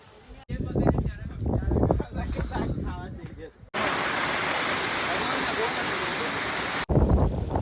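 Strong wind and rain on a hill, a steady, loud roaring rush that dominates the middle of the clip, with gusty, uneven noise before and after.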